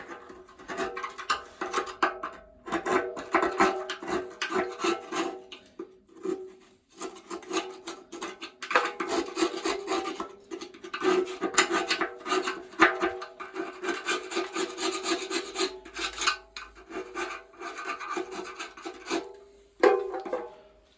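A hand scraper is worked over hardened residue during a repair on a Bosch WFP3300 washing machine, producing close, rough scraping strokes in irregular bursts with short pauses between.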